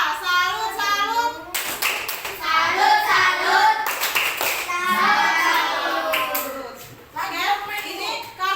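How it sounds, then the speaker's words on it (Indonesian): A group, with children's voices among them, claps a rhythmic salute clap in quick bursts of unison hand claps, broken by short pauses, with voices chanting along between the claps. "Kasih tepuk salut untuk kita semua."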